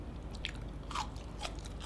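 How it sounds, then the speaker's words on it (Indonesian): Crispy fried banana bitten and chewed up close, giving a few sharp crunches spaced about half a second apart against a quiet background. "Garingnya tetap. Legitnya oke. Makanya kriuk-kriuk."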